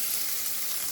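Bread frying in a hot pan makes a steady, dense sizzle that stays even and fairly close throughout, with no voices.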